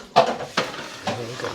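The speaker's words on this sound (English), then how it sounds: "Stir, you scrape the bottom." A spoon scrapes and knocks against a pot while cornmeal is stirred for Trinidadian coo coo, three distinct scraping strokes in a slow rhythm, close and clear.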